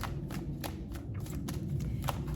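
A tarot card deck being shuffled close up, quick riffling bursts repeating in an uneven rhythm for a couple of seconds, with no one speaking.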